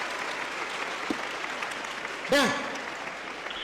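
A Catholic audience applauds a speaker in a sped-up recording, with continuous even clapping filling the whole stretch. A single short spoken word cuts in near the end.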